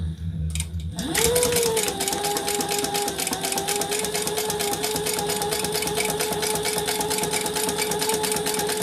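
A sewing machine stitches fabric pieces together, starting after a brief pause and then running in a steady, fast, continuous mechanical whir close by, with no talk over it.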